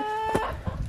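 A small hen on a farm gives a brief cluck or two at close range, a short burst standing out over a steady hum of background noise.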